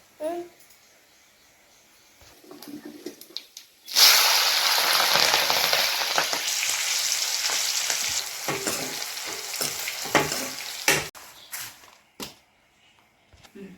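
Spices for chickpeas are tempered in hot oil, starting with a sudden loud sizzle that hisses steadily for several seconds, then fades into intermittent stirring clatter, with faint voices at the start.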